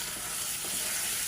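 Chicken marinated with ginger, garlic, green chili and onion paste sizzles steadily in a hot pan, a dense, continuous crackle heard up close with no talking.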